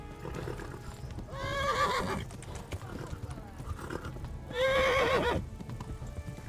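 A horse in Kingdom Come: Deliverance gives two loud whinnies a few seconds apart over a steady bed of hoof clatter and ambient noise.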